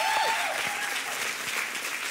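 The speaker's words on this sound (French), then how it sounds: "J'aimerais qu'on puisse applaudir les familles" Applause from an audience at a French-language church gathering, honoring the families, a steady crowd clapping that fills the short moment at moderate level with no voices over it.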